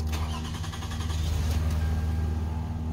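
A van engine starting after a fresh battery swap, heard from inside the cab: a steady low engine rumble that catches and settles into a running idle, loud and close with no talk.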